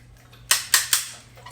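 A wire egg slicer cuts through a boiled egg with three quick, sharp snapping clicks in a row, followed by a fainter click.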